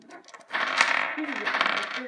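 Small dice clatter and rattle across a tabletop during a Tunnels & Trolls tabletop game, a close, bright burst of tumbling clicks lasting about a second and a half before settling.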